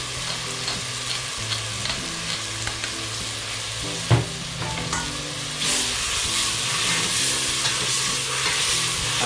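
Native chicken soup with papaya being stirred in a cooking pot, a steady sizzle and bubbling with scraping stirs and one sharp clank partway through, close and continuous with no talk.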